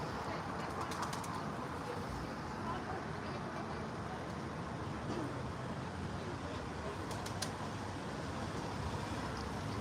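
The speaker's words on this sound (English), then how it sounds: "All the noise out to the side of me is the ladies feeding the birds out of her hand." Pigeons cooing and fluttering nearby while being hand-fed on a riverside at Wroxham, amid steady outdoor background noise, with occasional wing flaps and a faint voice in the distance.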